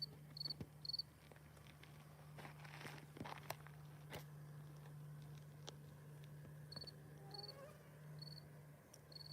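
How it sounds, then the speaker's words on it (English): A field cricket calls at night in New Brunswick, Canada, its high chirps steady but faint against a low constant hum, with occasional soft taps and rustles nearby. "There's a field cricket calling."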